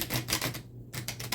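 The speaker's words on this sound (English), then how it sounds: "I did not pre-shuffle, so bear with me while I shuffle through this" A tarot card deck being shuffled, giving quick soft riffling flutters with a brief pause partway through, close and fairly quiet.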